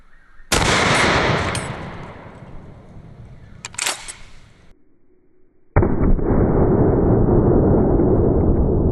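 A 12 gauge 5-petal slug fired into a ballistics gel block: a loud, sharp blast with a long noisy decay and a second crack, then a short quiet gap before another sustained loud burst of noise.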